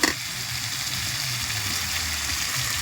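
Water poured into a pan of meat curry cooked without ginger or garlic gives a short splash and then a steady hiss and sizzle, close and fairly quiet.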